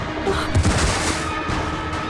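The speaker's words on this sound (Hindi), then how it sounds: "गोली चला दी।" A single gunshot goes off in a tense crime-drama scene, a short loud burst standing out against a dense, noisy background with no talking.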